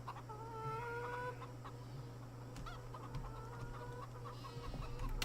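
Chickens clucking in Farming Simulator 17, repeated clucks and short calls over a steady low hum and farm background, fairly close and continuous with no talk.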